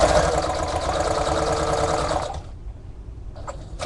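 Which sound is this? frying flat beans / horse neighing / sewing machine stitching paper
sewing machine stitching paper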